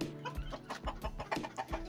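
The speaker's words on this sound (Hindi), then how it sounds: "ये मेरी न्यू सिंधी मुर्गी है" A new Sindhi hen in a backyard coop gives a series of soft, quick clucks in an irregular rhythm, faint and close.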